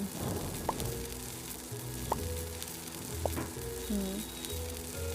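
French fries frying in a cooking video game, a soft steady sizzle punctuated by a few sharp synthetic clicks and tones, quiet and without talk.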